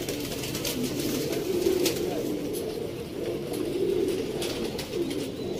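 Pigeons coo softly in a low, rolling murmur at a kabootar bazi loft in Sialkot, with faint bird chatter and distant noise throughout.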